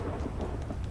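Heavy thunder from lightning in the GTA 5 Chaos Mod video game rumbles as a dense, continuous roar mixed with a rain-like hiss, filling the whole moment.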